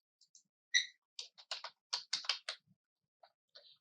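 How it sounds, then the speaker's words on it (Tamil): Text typed on a computer keyboard, a quick irregular run of crisp close key clicks in small bursts with short pauses, alone in a quiet room. "இந்த கம்போசிஷன்ல நான் டெக்ஸ்ட் டைப் பண்றேன்"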